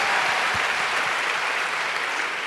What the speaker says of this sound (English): Give an applause to Norman Lear.